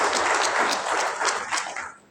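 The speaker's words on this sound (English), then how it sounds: "A round of applause for those." Applause from a conference audience after bank awards are announced, with dense steady clapping throughout that begins to thin out and fade near the end.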